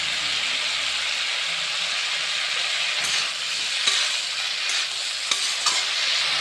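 Drumsticks frying with onions in a pan for a mustard-seed drumstick curry, a steady close sizzle throughout with a few sharp clinks and scrapes of stirring.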